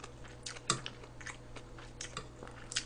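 Close, soft chewing and a few crunchy bites while eating braised pork ribs with aged kimchi broth, with irregular mouth sounds and no speech.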